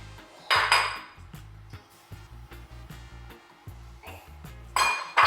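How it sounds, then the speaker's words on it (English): Melted butter and granulated sugar are mixed in a bowl, giving close, repeated clinks and scrapes of a utensil against the bowl in an irregular rhythm with a few sharper knocks. "add that to a bowl, and you're gonna mix in your granulated sugar."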